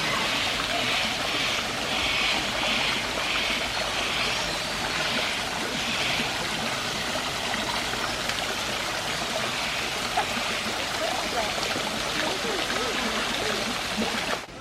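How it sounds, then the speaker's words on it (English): Water trickles and splashes steadily from a small fountain and waterfall at a parrot park in Pigeon Forge, Tennessee, a soft, continuous babble heard at moderate distance with faint chirps over it. "but well, it's a fountain and waterfall."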